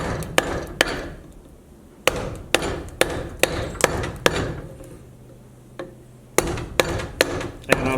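Mallet strikes on a large gouge carving wood for a cowboy-to-Indian figure: sharp, close, irregular knocks in bursts, about a dozen hits with short pauses between.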